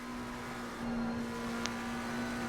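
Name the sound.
race car engine in a sim racing video game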